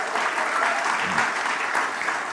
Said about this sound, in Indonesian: Beri tepuk tangan dulu buat Tuhan.